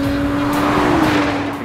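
A Honda Formula One race car with a 3.5-litre twin-turbo V6 and electric motors accelerates hard out of a corner, a loud, high, sustained engine note rising slightly in pitch over under two seconds.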